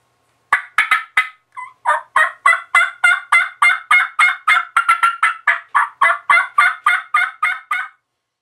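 A rapid run of loud, raspy turkey gobbling notes, about twenty in steady succession, close and with no talking; made by a hunter's turkey call imitating a gobbler.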